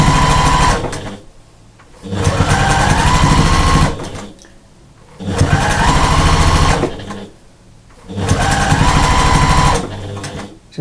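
A sewing machine runs in three steady bursts, stitching a quarter-inch seam joining a sashing strip to white fabric, right sides together, on a patchwork cushion, with short pauses between runs and no talk.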